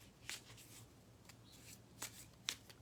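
A deck of element cards is shuffled in several quick riffling bursts, soft and close, separated by short pauses in an otherwise quiet room.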